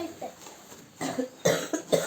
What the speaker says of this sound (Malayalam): എനിക്കും ഉണ്ട് ചുമയും കാര്യങ്ങളൊക്കെ തന്നെ ഉണ്ട്